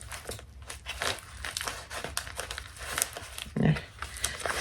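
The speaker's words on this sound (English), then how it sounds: "Probably should have had this opened before I got on camera because these scissors ain't doing a great job." Scissors struggle to cut open a parcel's packaging, giving close, irregular crinkling and crunching of plastic wrap with scattered snips and rustles, a louder burst near the end.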